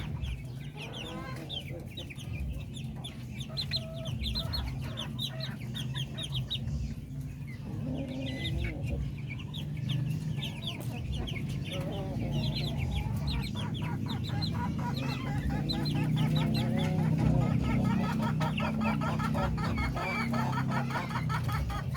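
Chicks cluck and peep steadily while eating wet feed, a busy flock of many overlapping calls with occasional louder fowl cries over a constant low background.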